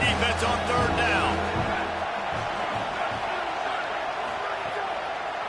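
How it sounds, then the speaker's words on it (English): Video game football crowd cheering at a stadium during a third-down defensive stand, a dense continuous roar of voices and whoops that stays loud and steady throughout. "Decibels rising as the crowd gets behind this defense on third down."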